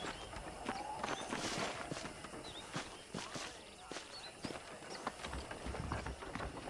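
Horse hooves clip-clop at a walking pace on a trail in the Western video game Red Dead Redemption, a steady irregular patter heard at moderate distance beneath ambient outdoor sound.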